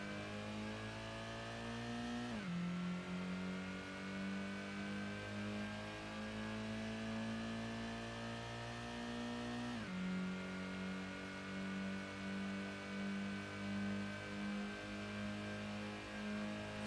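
Sustained full-throttle car engine in Gran Turismo 1, a steady high-revving drone that drops sharply on two gear shifts and climbs again, loud and close with no talk.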